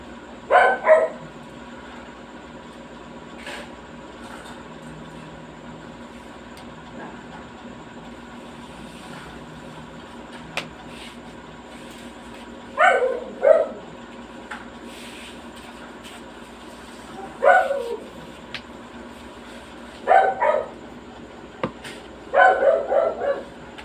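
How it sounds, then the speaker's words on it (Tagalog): A dog barks repeatedly in short clustered bursts separated by long quiet gaps, fairly close against a steady low background hum. "maingay ang aso namin, kahol ng kahol"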